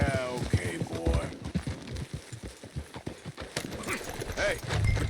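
Horse hooves clip-clop in rapid rhythm during a ride in the Red Dead Redemption 2 video game, mid-loud and steady, with characters talking over the hoofbeats throughout.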